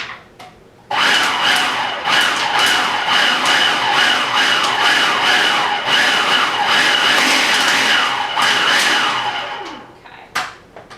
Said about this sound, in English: all you're going to do is just keep it in the food processor a little bit longer and it'll warm it up.